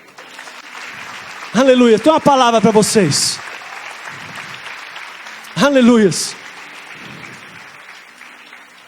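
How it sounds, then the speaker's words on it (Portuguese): A church congregation claps for the Lord, a diffuse spread of applause running beneath a preacher's loud, emphatic voice that comes in bursts. "Aplaude ao Senhor."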